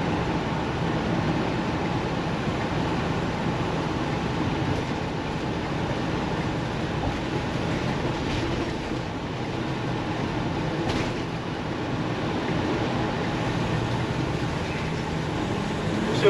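A 2018 Thor Quantum PD31 motorhome with an old V10 engine and Michelin tires cruising at about 55 to 60 mph on the interstate, with a steady, continuous broadband engine and road rumble throughout and no talk.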